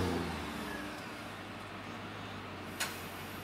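A Mercedes-AMG car engine idles steadily after its first start with a newly fitted tuning box and running on gas, a low even hum with a faint brief click near the end.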